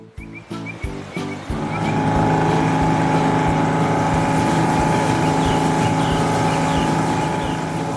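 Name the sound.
big ship cutting through water, 3D animation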